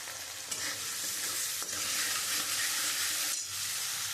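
Chili powder, turmeric and green chilies sauté in a hot pan for a mustard rui fish curry. A steady, close sizzle runs throughout, broken by a few brief stirring scrapes, with no voices.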